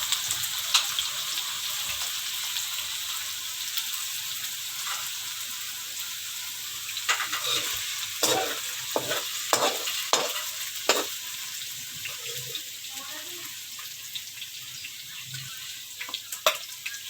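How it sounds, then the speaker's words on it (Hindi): Sliced okra fries in hot oil in a pan, keeping up a steady, even sizzle throughout, with a cluster of utensil clatters and stirring knocks midway; no voices are heard. "देखें ये हमारी तकरीबन भिंडियाँ फ्राई हो चुकी हैं"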